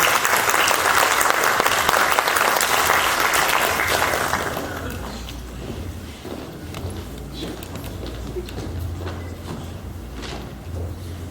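An audience at a traditional folk minstrels' festival opening ceremony breaks into loud, dense applause that fades after about four seconds into scattered claps, footsteps and room noise.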